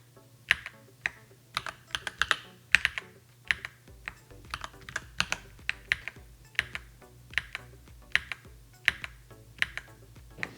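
Close-up typing on a NuPhy Halo 96 mechanical keyboard with linear switches: quick, uneven bursts of clacky keystrokes, fairly loud, with no talking.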